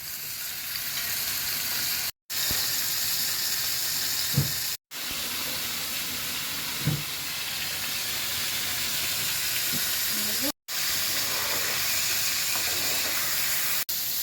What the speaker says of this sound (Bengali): তেল গরম হয়েছে তাওয়ায়, এবার মাংসটা ভাজা হবে।